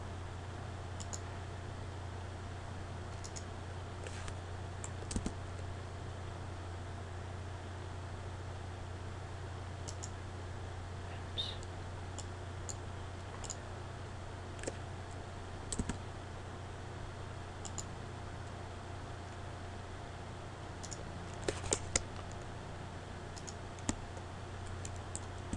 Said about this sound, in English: Just right click on the vertices and click shift for multiple selections.